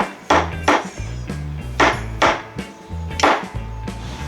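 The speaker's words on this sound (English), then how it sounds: "So I just kept tapping it around and around and around" A hammer taps repeatedly on a metal part from an old Evinrude 6 hp outboard motor, sharp ringing knocks in an uneven rhythm, close and clear.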